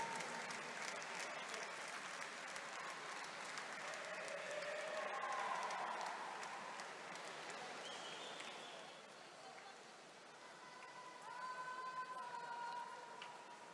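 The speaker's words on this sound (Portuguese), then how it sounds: "Uma salva de palmas para as nossas atletas dos 50 metros livres" Crowd applause at a swimming podium ceremony for the 50 m freestyle athletes, steady clapping heard from a distance in a reverberant venue, with a few whistles and cheers rising over it.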